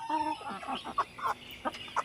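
Short, repeated clucks from a black native hen in soft bursts, close by, with brief pauses between each call.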